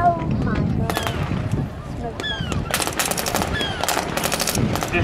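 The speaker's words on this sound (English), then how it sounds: "now conduct fire and manoeuvre towards the enemy" Bursts of machine gun fire crack out repeatedly during a military display assault at an Armed Forces Day event in Llandudno, loud sharp volleys spread across the clip alongside outdoor crowd noise.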